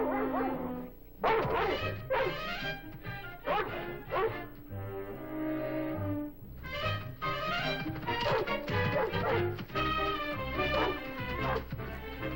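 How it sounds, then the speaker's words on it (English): Loud, insistent barking and yipping from a dog outdoors near elk, in close bursts with a few brief gaps, continuing throughout with no voices over it. "She figured a barking dog meant trouble for her youngster."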